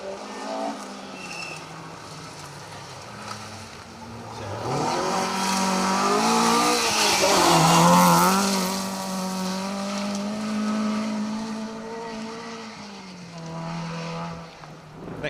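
A race car driving through straw bale chicanes: a loud engine approaching, revving and shifting through the corners as the pitch climbs and falls, then pulling away while a steady background rumble carries on.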